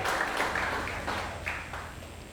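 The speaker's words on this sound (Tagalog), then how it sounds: "The best muna palakpak para kay Jesus" Church congregation applauding during a worship service, a dense, fairly loud burst of clapping that fades slightly toward the end, with faint voices mixed in.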